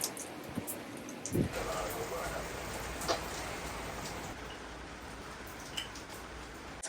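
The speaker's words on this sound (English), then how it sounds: "It's a rainy day" Steady rain falls on a rainy day, a dense close hiss of drops striking surfaces with a few louder taps and drips, continuous throughout.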